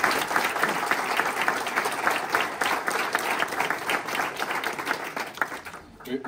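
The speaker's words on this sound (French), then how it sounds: "Vous avez raison de les applaudir" An audience at the first edition of a Comminges cooking contest applauds in a dense, steady burst of many hands that runs without pause and cuts off sharply near the end.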